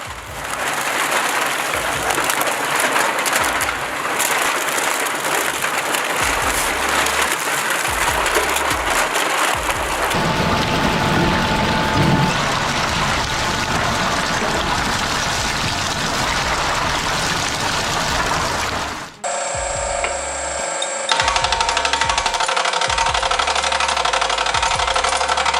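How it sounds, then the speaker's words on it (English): An industrial shredder with hardened steel blades chews through cans with a loud, dense grinding roar and clattering metal, steady throughout with a sudden shift in tone partway through as the scene changes. "With hardened steel blades, it reduces cans into fragments within seconds"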